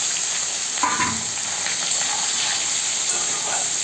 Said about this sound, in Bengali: আমার তেলটা গরম হয়ে গেছে, এর মধ্যে আমি চিংড়ি মাছগুলো ঢেলে ভেজে নেব।